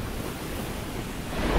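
Water splashing in Darkroot Basin in Dark Souls comes through as a brief, steady wash of broadband watery noise, swelling slightly at the end.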